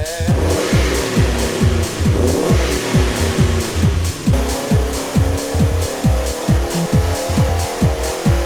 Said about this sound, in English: The next exhaust is straight through, so should have more power and even better sound.